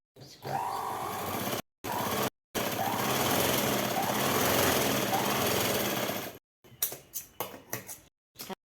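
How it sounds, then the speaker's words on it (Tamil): An electric sewing machine stitches the shoulder seams of a night dress, running in a steady loud whirring burst for several seconds with brief pauses, then a few short stop-start runs toward the end. "இப்போ நம்ம ஷோல்டர் ஜாயின் பண்ணிட்டோம்."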